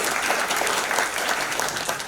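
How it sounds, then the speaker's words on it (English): Lecture audience at the Cleveringa Lecture applauds the speakers, a dense, continuous round of clapping from a full hall, close and steady for the whole stretch. "please give another round of applause to our speakers"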